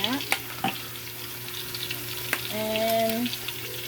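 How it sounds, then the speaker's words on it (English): Onion frying in a pot with thyme and Italian seasoning, a soft steady sizzle broken by a few sharp clinks and stirring scrapes, close and fairly quiet. "Always add your ingredients when the onion is frying."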